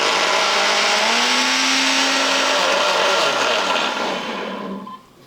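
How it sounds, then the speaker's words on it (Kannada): Kitchen mixer grinder blending plain mint leaves in a closed mixie jar, a loud steady whirring motor with a slowly shifting whine, running alone for about four seconds before winding down and stopping. "ಈಗ ನಾನು ಮಿಕ್ಸಿ ಜಾರಲ್ಲಿ ಪುದೀನ ರುಬ್ಕೊಂಬಂದೀನಿ ರೀ."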